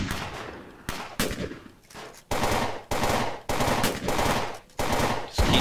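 Automatic gunfire in the zombie-shooting video game Fort Zombie crackles in loud, rapid bursts, several separate volleys broken by short pauses.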